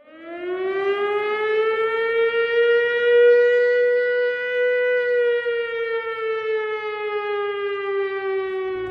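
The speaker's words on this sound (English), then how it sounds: "Here is a clear recording of a siren, pitched so that it's somewhat in the range of the U-87 siren" A siren pitched near the range of a U-87 siren, one long clean wail that swells in and holds a steady tone, loud and alone for about nine seconds.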